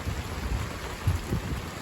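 Steady rain falls during an evening walk with a Newfoundland dog, a dense broadband hiss with faint low rumbles underneath.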